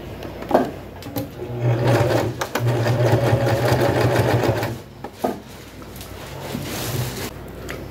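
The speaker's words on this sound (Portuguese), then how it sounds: "agora eu vou pra máquina e vou costurar aqui" A domestic sewing machine stitching all the way around the edge of a bag made from reused denim, running in two long steady bursts with brief pauses and handling noises between them, close and fairly loud.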